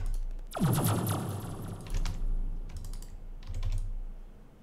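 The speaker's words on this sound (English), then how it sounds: "Clicking randomly until you form." Rapid clicking from playing the Minecraft modpack Enigmatica 2 with Immersive Petroleum while forming a pump jack. A loud sweeping effect comes first, then two short bursts of quick, close clicks.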